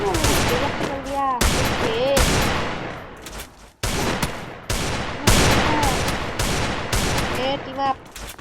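Gunfire in a shooting video game played for headshots, rapid loud bursts of shots in quick succession with brief gaps, close and dominant throughout, with some voice chatter mixed in.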